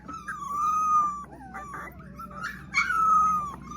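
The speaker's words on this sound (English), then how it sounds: "They got that Mississippi hound dog in it." A Mississippi hound puppy howls and whimpers in drawn-out, wavering wails, close and fairly loud, with short breaks between cries.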